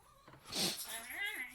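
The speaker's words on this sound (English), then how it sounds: "That's the dog going, I gotta poo." A dog whining to be let outside, a short soft whimper that rises and wavers over about a second, quiet and close.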